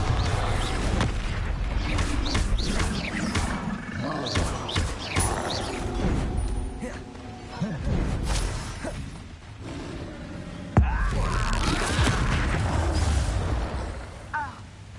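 Explosive spell blasts in a Harry Potter action game: repeated booming crashes and whooshes with shattering debris, loud and close, spread across the scene with a sharp burst near the end.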